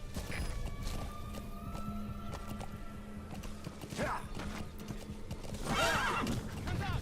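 D-Horse in Metal Gear Solid V clip-clops along steadily, with a couple of shrill neighs rising over the hoofbeats and game sounds, and faint speech in the background.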